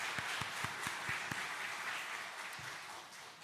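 Applause rises from a church congregation at a Korean Methodist service, a steady wash of hand claps with a few sharp louder claps standing out near the start, moderately distant and filling the room.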